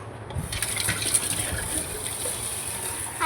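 Water gushes steadily from a tap while a utensil used for making lemonade is rinsed, a continuous close splashing hiss with faint knocks of the utensil, no talking.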